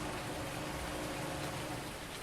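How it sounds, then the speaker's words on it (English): Rain falls in the farming game Farming Simulator 19, a steady, dense hiss of drops with no break or variation across a couple of seconds, heard alone without voices. "Rain, rain, rain. That's all it is rain."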